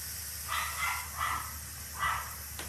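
A dog barks four times at a moderate distance in a home kitchen while food cooks, short evenly spaced yaps over a steady background hum.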